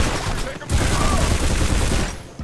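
Dual-wielded SMGs firing in the shooter game Turok, a dense continuous burst of rapid gunfire that fills nearly the whole moment, loud and close, cutting off briefly early on before resuming.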